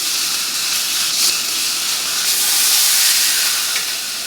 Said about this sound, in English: Throw this steak on there. Love that sizzle.